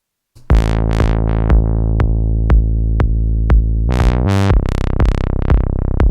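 A deep synth bass line plays a steady pulsing pattern of repeated sustained notes, then shifts to brighter, faster-decaying plucks near the end, loud and alone.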